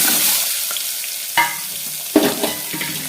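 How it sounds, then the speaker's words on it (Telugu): Beaten eggs fry in hot oil inside a pressure cooker, giving a close, loud hiss that starts strong and settles, broken by two or three sharp spatula clacks and stirring scrapes. "ఆయిల్ వేడైన తర్వాత ఇందాక మనం కలిపి పెట్టుకున్న ఎగ్గులను వేసేసుకోవాలి"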